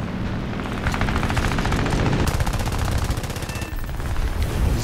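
Aircraft machine guns fire in the War Thunder air arcade battle: long, dense bursts of rapid gunfire, loud and close, with a brief lull before the firing resumes.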